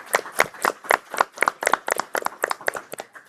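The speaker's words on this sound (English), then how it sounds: "We can give her a round of applause." A handful of people at a Madera city council meeting clap for an award recipient, giving close, distinct, slightly uneven claps in a quick pulse that softens over three seconds.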